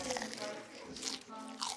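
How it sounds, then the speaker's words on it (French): A crunchy bite into a Korean kogo corn dog coated in ramen noodles gives a short series of crisp cracks and crackles, close up, with voices around it. "Ça doit wow. être très croustillant. Je veux entendre le crunch."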